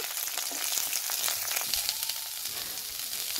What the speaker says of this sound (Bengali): ফুলকপিটাকে ভালো করে ভেজে নেব